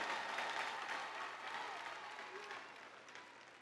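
Commencement audience at Milwaukee Area Technical College applauding graduates' supporters, a soft, distant spread of many hands clapping that slowly tapers off over a few seconds.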